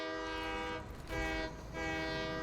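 A train in the factory-building game Satisfactory rolls along steadily with a sustained horn-like harmonic tone over a low rumble, the tone briefly dipping twice before resuming, with no voices.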